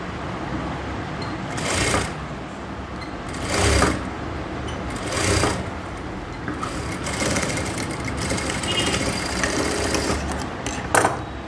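Sewing machine stitching a blouse armhole in bursts, a close whirring run that stops and restarts several times with short pauses as the fabric is turned.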